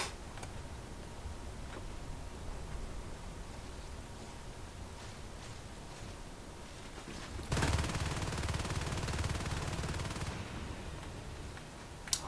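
Marine gunfire in the Natural Selection 2 game: faint scattered ticks and shots, then a dense sustained burst of automatic fire lasting about three seconds before it drops back to quiet background.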